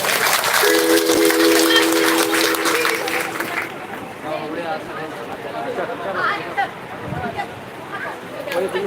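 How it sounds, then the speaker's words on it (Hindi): Audience applause at a Bhagwat Katha gathering, a dense clatter of claps at first that thins into crowd chatter and babble, with a brief tonal hum early on and voices talking throughout. "तालियों की गड़गड़ाहट के साथ"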